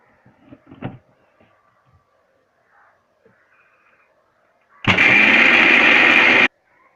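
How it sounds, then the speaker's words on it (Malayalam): An electric mixer grinder powders roasted cocoa seeds in a single loud whirring burst lasting under two seconds. A few quiet knocks and handling noises come before it. "ഇനി നമുക്കത് മിക്സിയിലിട്ട് പൊടിച്ചെടുക്കാം."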